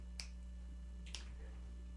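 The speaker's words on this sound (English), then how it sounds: "you're clapping on, or snapping on 2 and 4, not 1 and 3." Audience members at a live jazz show snap their fingers on the beat. Two crisp, close snaps land about a second apart over a low steady hum.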